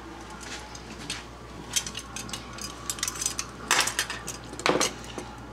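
Eggs and a tablespoon of oil being added to a mixer bowl, quiet clinks and taps of utensils against the bowl in scattered bursts over a faint steady room hum.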